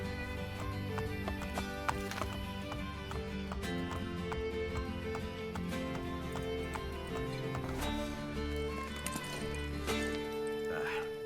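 A horse gallops with rhythmic clip-clop hoofbeats in the Assassin's Creed Brotherhood video game, occasional whinnies rising over a constant bed of game music, all held at a low, even level.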